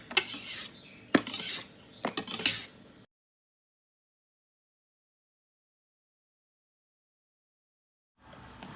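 Egg white being stirred into egg yolk batter for a banana chiffon roll, quick clinking utensil strokes against a bowl in three short bursts, then silence before faint sound returns.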